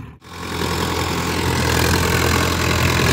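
Sonalika 750 DI Sikander 55 horsepower tractor engine running steadily up close, a continuous loud low diesel drone with an even idling rumble throughout after a brief dip at the start.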